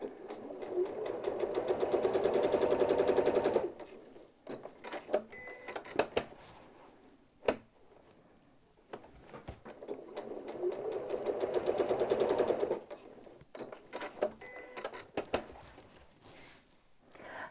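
A sewing machine with a walking foot quilting straight lines, two long, steady stretches of humming stitching close by, broken by clicks and fabric handling in the pauses.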